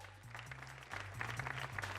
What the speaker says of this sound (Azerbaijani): bir alqışlar